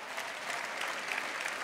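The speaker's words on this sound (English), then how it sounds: "Round of applause." Audience applause at a stand-up comedy show during the Winnipeg Comedy Festival, a steady, moderately distant burst of many hands clapping that holds evenly through its brief length.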